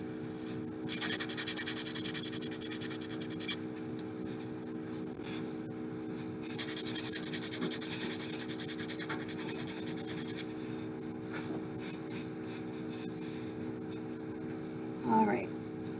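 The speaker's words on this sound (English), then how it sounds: "I am going to have to just take my sandpaper quickly, but just to this end." Sandpaper rubbed quickly across the cut end of a metal wire or pin for beaded earrings, giving a steady, close, scratchy rasping that runs throughout in short strokes.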